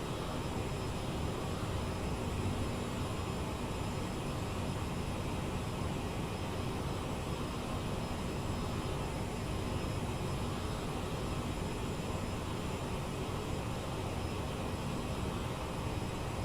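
Boeing 747 jet engines in Microsoft Flight Simulator 2020 on a flight from Sarajevo to Geneva, a constant broadband roar that holds steady and loud with no change throughout, and no talking.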